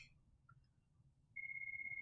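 A phone ringtone starts abruptly and holds as a steady, pulsing electronic tone after a quiet stretch of room noise.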